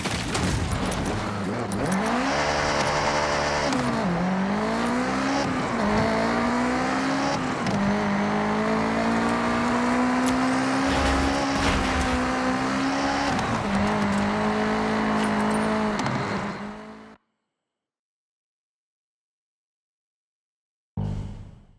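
Cars driving in the racing game Forza Horizon 6, a loud engine droning and rising in pitch through gear changes, then cutting off abruptly into silence with a brief return at the end.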